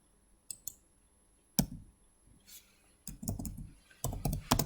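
Someone types a database query on a computer keyboard, with scattered key clicks at first, then quicker bursts of close, crisp tapping in a quiet room.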